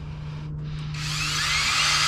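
A Drill Doctor 350X drill bit sharpener runs with a steady low motor hum, then a brighter grinding hiss comes in about a second later and holds to the end, close and unbroken.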